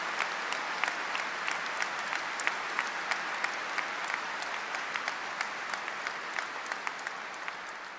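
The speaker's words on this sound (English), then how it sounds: "So can we give a huge round of applause for everybody working behind the scenes?" Applause from a large audience at a Liverpool University graduation ceremony in a hall, steady dense clapping with a few sharper individual claps, continuing evenly throughout.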